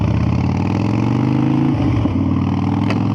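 A Harley-Davidson Dyna Wide Glide (2012) with a 103 V-twin engine runs loud and close with a steady lumpy throb, then the pitch shifts as the throttle rolls, dipping briefly before settling into a deep drone.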